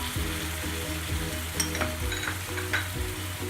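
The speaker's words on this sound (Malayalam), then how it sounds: "നമുക്ക് പച്ചമണം മാറുന്ന വരെ ഒന്ന് ഇളക്കാം." Ground chili, coriander and turmeric powders sizzling in hot oil in a pan for Kerala-style masala, a steady close frying hiss with a rhythmic scraping stir running throughout.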